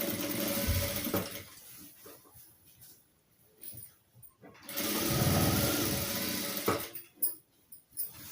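A sewing machine runs in short bursts while stitching the corner of a saree, with a longer steady run midway and brief stop-start whirs near the end, recorded close in a quiet room.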